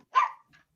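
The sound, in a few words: dogs barking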